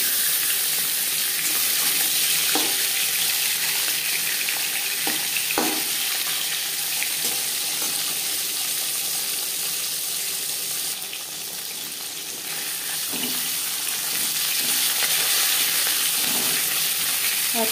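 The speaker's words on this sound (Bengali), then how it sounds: "সবার প্রথমে মাছের মাথা ভেজে নেব।" A fish head fries in three spoons of hot refined oil, giving a loud, dense, continuous sizzle with occasional pops and faint utensil taps throughout.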